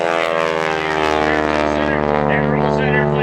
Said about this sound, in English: the big Stearman biplane